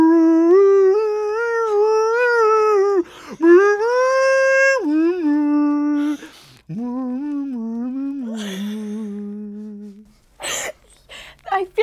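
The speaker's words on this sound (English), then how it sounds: "This is a dog." A synthesized dog voice howls a melody in the video game Animal Singdom, sustained pitched howls rising and falling in phrases that break off around ten seconds into short yips and whimpers.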